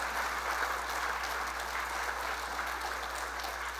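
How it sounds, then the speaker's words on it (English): Steady audience applause fills the room at an evening performance event, dense even clapping from many hands held at a constant level throughout with no voices over it. "Let's give him a big round of applause."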